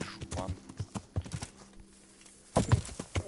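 Horse hooves clip-clop in the medieval game Kingdom Come, irregular steps near and moderately loud, with someone talking over parts of it.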